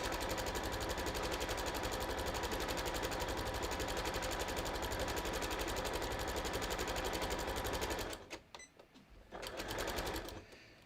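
A sewing machine stitches embroidery onto jeans, running steadily and loudly with a dense rapid mechanical chatter for about eight seconds, then stopping briefly before a short burst resumes near the end.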